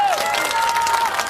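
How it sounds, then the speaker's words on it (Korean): Brief applause from an audience at a Democratic Party speaking event in Gangnam, a steady burst of clapping with a thin sustained tone running through it. "리액션 박수 금지."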